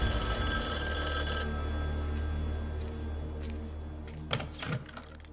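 A telephone rings with a sustained electronic bell tone for about a second and a half, followed by a quieter room with a few sharp knocks and clatter.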